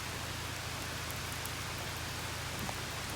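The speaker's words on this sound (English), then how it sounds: "It's raining." Rain falls steadily outdoors, a dense, even hiss of drops on surfaces with occasional closer patters, continuous throughout.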